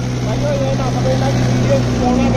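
A Mahindra 575 DI XP Plus tractor's diesel engine runs at a steady, even idle after its running-in, a constant low droning hum close by with faint voices over it.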